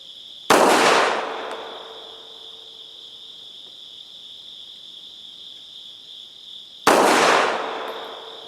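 Two sharp, loud gunshots from a Beretta M1934 pistol fired at a range, about six seconds apart, each with a ringing decay, while insects chirp steadily in the background.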